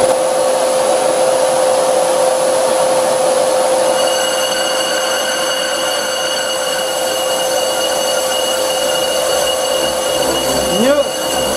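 A 100-year-old bench lathe machines a brake disc, giving a loud, continuous whining hum with steady tonal ringing that holds throughout and bends briefly in pitch near the end.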